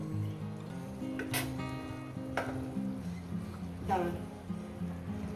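Rohu fish fries in a pan, giving a steady, close sizzle throughout. A few louder bursts of stirring or scraping break through it.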